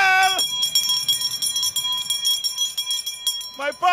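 A bell rung repeatedly at a political rally in Exuma, Bahamas, a bright metallic clanging that carries steadily over crowd noise, with a voice at the start and end.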